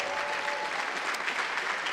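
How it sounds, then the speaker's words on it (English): A conference audience applauds a healing group walking up to the stage on opening night, a continuous wash of many hands clapping at moderate volume that holds evenly throughout. "Today, they can give them a round of applause as they come up."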